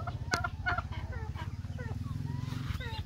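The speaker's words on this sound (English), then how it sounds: "These are our heritage chickens." Several heritage-breed chickens, such as Rhode Island Red, Black Australorp and Buff Orpington, cluck and call in short bursts over a steady low hum, with a few higher bird calls mixed in nearby.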